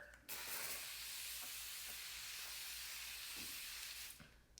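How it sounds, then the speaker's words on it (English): A steady, close hiss of aerosol setting spray runs for about four seconds, starting and stopping abruptly, with no talking. "We're going to be spraying this before and also after"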